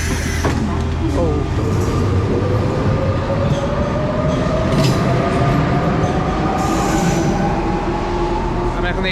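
A Paris metro train rolls along with a loud, continuous rumble and rising whine, rail clatter and carriage rattle filling the whole stretch.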